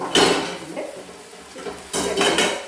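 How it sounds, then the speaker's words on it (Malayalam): A cooking pot lid is lifted during preparation of a fried chicken curry, giving two bright metallic clatters of metal on metal, one at the start and another near the end. The kitchen is otherwise quiet between them. "അടച്ചിട്ടു ഇനി ഒന്ന് അടപ്പ് തുറന്നു"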